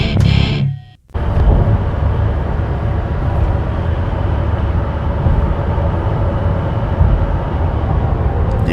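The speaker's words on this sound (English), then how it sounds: "That's the sound of the road." Steady broadband rumble of road noise inside a moving car heading home from a metal and beer festival, loud and constant after a brief dip at the start, with no talking.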